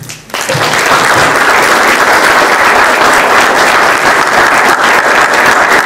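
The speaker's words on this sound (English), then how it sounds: "We have to applause for Tom and Michelle and John." An audience applauds candidates at a meet-the-candidates event, the clapping swelling quickly after a brief voice and then holding as a loud, sustained roar of many hands.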